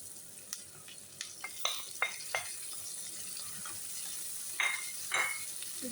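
Tomatoes added to a hot pan with egg frying on the stove, giving a steady sizzle with several sharp crackling bursts and stirring clatter, close and moderately loud, with no talking.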